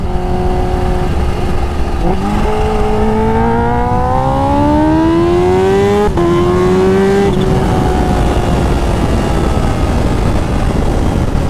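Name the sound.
motorcycle titanium exhaust accelerating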